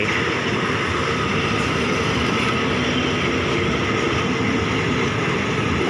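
Ordinary passenger train 202 running through Chum Saeng station in Thailand: a loud, steady rumble of wheels and carriages close by, with no talking.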